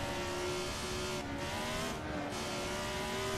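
A 1970s Formula 1 car engine from a sim racing mod in Assetto Corsa, a sustained high-revving wail with rising and falling pitch through gear changes, steady and fairly loud with no talk.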